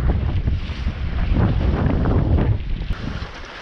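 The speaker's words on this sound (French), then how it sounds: "J'espère que c'est qu'une rafale hein." A strong gust buffets a small mini sailboat at sea on the way back from Vendée, with loud roaring wind and rushing water building, then easing slightly at the end.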